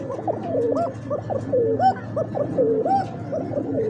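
A pair of pigeons, male and female, coo together in repeated rolling calls, close and steady for several seconds with no talking.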